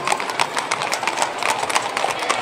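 Horses dance to a band rhythm in a parade in Apatzingán, Michoacán. Hooves clip-clop loudly and quickly in a dense, steady patter, close by, with crowd noise under it.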